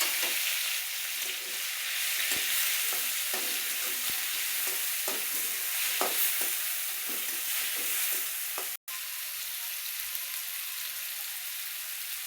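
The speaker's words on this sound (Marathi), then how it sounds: "आता कांदा टमाटे टाकायचे आपल्याला, एकत्र टाकायचंय बरं का." Onions and tomatoes go into hot oil with popping mustard seeds, making a loud, continuous sizzle with soft stirring scrapes and a brief break near the end.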